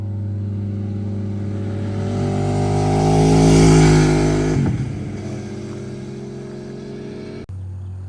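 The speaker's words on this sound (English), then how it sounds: "I wanted to get some shots of him on the bike taking some turns." A motorcycle accelerates through turns on a road. Its engine swells to a loud peak as it passes close by, then fades away into the distance.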